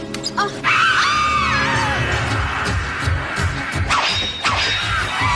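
A shrill, wavering scream rises over crashing, thwacking animated-film sound effects in the Felix the Cat movie, loud and close amid busy clatter.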